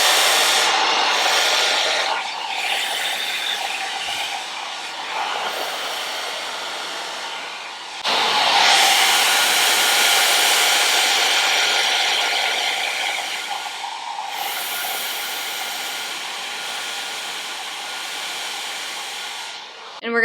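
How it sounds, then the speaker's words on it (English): T3 Fit blow dryer running steadily and close while a round brush works through hair, with a brief dip near the middle before the loud whoosh resumes. "dryer to just smooth out the bottom layer of the hair"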